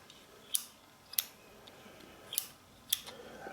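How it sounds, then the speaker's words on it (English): A can gate limit switch on a homemade materials crusher clicks sharply four times at uneven intervals, crisp and close against a faint hiss. "You can hear that click."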